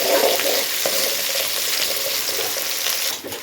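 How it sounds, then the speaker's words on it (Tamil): Onion, garlic and curry leaves sautéing in hot oil for an eggplant kuzhambu, a dense close sizzle with intermittent stirring scrapes, fading slightly at the end. "இதில் வந்து ஒரு கொத்து கருவேப்பிலை போட்டுக்கோங்க. இது வந்து நல்லா வதக்கிடுவோம்."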